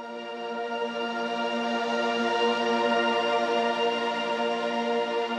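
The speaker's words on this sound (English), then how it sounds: "It's a really nice sounding pad" The Foundation preset of the Prime app's Pad Player sounds a warm, sustained synth pad chord. It is smooth and unbroken, holds steady at an even level and stands alone without talk.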